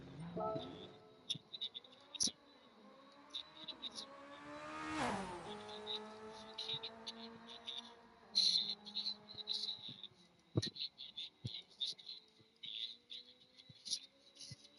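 A Subaru car in Gran Turismo 7 revving up through first and second gear, the engine pitch climbing in a long rising sweep, dropping at the shift, then climbing again, with faint clicks scattered over the top.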